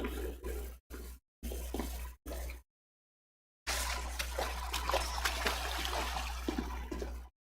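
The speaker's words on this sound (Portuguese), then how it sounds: "Coletar água." Water is collected in a GTA V roleplay game, with a steady trickling, running-water sound. It breaks off in short choppy bursts, goes silent for about a second, then runs continuously to the end.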